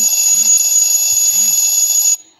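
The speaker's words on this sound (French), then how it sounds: "c'est la sonnerie d'alarme" An electronic alarm rings steadily with a high, piercing tone for about two seconds, then cuts off abruptly.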